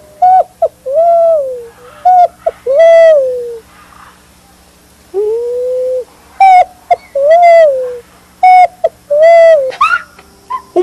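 A picui ground dove (pomba saleira) gives loud, close, repeated cooing calls: short hollow coos in clustered bursts, separated by brief silences.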